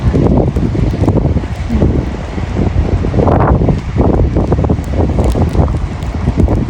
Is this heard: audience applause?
no